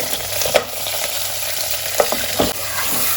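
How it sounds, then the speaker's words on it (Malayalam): Mutton pieces and mint leaves sizzle in hot oil in a pan for a Kerala-style stew, with close, steady frying and a few sharp scrapes and knocks as they are stirred. "ഇനി ഇത് നന്നായി ഇളക്കി ഇതല്പം ജസ്റ്റ് കളറ് മാത്രം മാറിയാൽ മതി"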